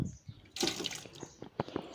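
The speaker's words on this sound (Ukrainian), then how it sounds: "все, що лишилося, заливаю водою" Water is poured from a tap into a jam-making pot holding leftover currants, raspberries and redcurrants. It splashes and gurgles for about a second and a half, close and fairly quiet, with a few drips after.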